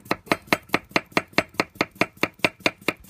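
A knife slices cucumber thinly on a board, about fifteen sharp, evenly spaced chops in a steady quick rhythm, close and clear with no talking.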